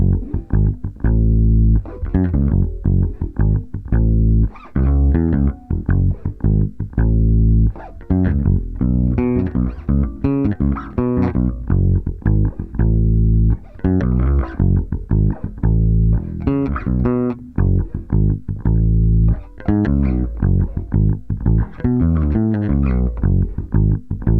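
A bass guitar plays a loose, improvised line of plucked root, fifth and octave notes, low and full, with varied rhythm and short gaps, close and steady throughout.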